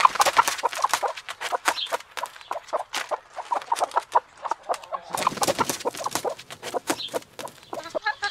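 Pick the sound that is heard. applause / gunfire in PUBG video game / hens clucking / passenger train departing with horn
hens clucking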